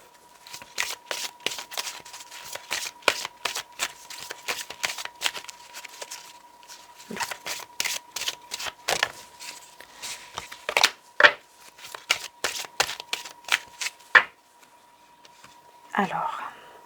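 Oracle cards are shuffled in long runs of rapid, close rustling flicks, pausing briefly midway, then ending with a softer final shuffle; a faint steady tone hums beneath.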